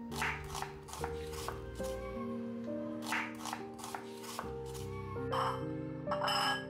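Vegetables chopped on a board by knife in a home kitchen, a series of close, quick taps in uneven bursts under steady background music.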